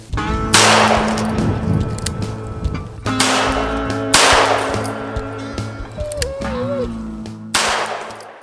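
Loud, sharp gunshots from a scoped .357 Magnum fired at a 50-yard range, four heavy reports spaced a few seconds apart, each with a ringing tail, over a low steady background hum.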